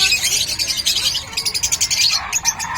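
Caged birds, conures among them, at the Bocaue pet market chirp and squawk in rapid, overlapping high calls, close and fairly loud, with no talking.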